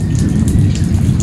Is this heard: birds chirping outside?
no